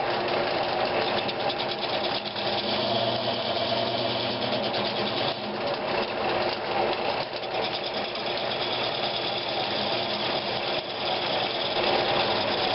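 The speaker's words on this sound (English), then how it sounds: "I'm going to come in with my skew and square everything up" A skew chisel squaring up the tenon on a walnut hollow form spinning on a wood lathe, heard as a continuous whirring hum of the lathe with a light scraping cut layered over it, steady and unbroken throughout.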